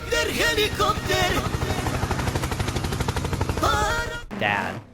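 Helicopter in the driving game BeamNG.drive, a steady rapid rotor chop running loud through most of the stretch, with talking at the start and again near the end.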